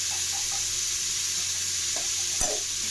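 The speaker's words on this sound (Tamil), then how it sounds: "நல்லா எண்ணெயில் மாங்காவை வதங்க வைக்கலாம்." Raw mango pieces sautéing with mustard seeds in hot oil, a steady soft sizzle with faint stirring scrapes and one brief clink near the end.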